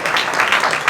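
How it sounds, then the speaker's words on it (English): Audience applause at a Chabad tenth-anniversary gala, a dense steady wash of many hands clapping together, loud and continuous for the whole moment. "Give them all a round of applause."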